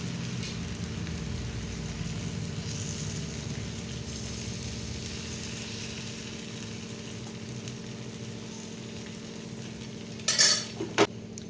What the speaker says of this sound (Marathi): आता आपण एक अजून डोसा टाकून घ्यायचा आहे तुम्ही पाहू शकता या पद्धतीने आपण डोसा घालून घ्यायचा आहे